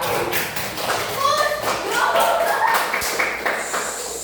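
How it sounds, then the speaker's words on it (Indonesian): Classroom applause for a child during a school teaching-practice lesson, a short burst of scattered clapping from pupils that carries through the whole moment alongside general room chatter. "Tepuk tangan untuk Aska."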